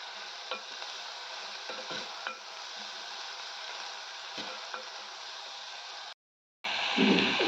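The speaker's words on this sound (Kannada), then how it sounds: "ಇದನ್ನ ಸ್ವಲ್ಪ ಎಣ್ಣೆಲಿ ಫ್ರೈ ಮಾಡ್ಕೊಳ್ಳೋಣ" Boiled moong beans fry in oil for a Kannada gravy, giving a soft, steady sizzle with a few light stirring knocks, then a brief dropout and a louder rush at the end.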